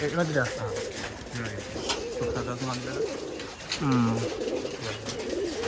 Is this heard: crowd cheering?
no